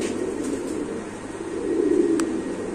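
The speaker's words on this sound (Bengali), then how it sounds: "আমার তরফের থেকে একটা কবুতর দেখাই" A pigeon at a pigeon market gives soft, low, rolling coos close by, a continuous murmuring hum with faint background noise.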